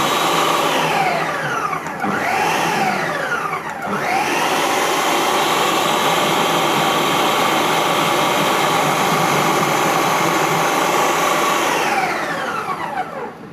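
Homemade mayonnaise with mustard whirring under an electric mixer or stick blender, a loud steady motor drone with a couple of brief pitch dips near the start before running evenly and easing off at the end.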